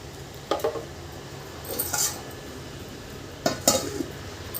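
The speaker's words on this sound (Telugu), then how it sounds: "మూత పెడదాం" A lid is set onto a cooking pot of curry made with dried fish, dried prawns and drumsticks: several separate metallic clanks and clatters, close and fairly sharp, with quiet pauses between and no talking.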